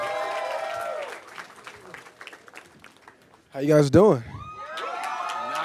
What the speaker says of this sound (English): It's a slightly enthusiastic crowd.